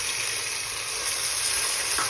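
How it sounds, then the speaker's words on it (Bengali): Water poured into sizzling fried masala for a Bengali katla fish curry. A loud, continuous hissing sizzle fills the pan steadily, with no voices. "মশলাটা কষানো যখন হয়ে গেছে, এর মধ্যে আমি 240 ml জল দিচ্ছি।"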